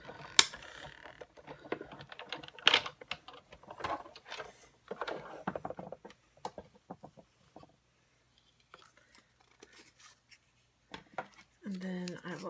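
Paper card pieces being cut out by hand while making handmade greeting cards, heard as quiet, sparse snips and clicks spaced irregularly, with brief rustling and a short voice near the end.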